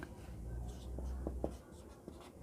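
A heading is written on a board during a maths class, giving faint, quick taps and short strokes over a low background hum.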